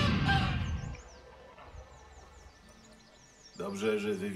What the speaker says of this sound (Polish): I gęś uwolniona.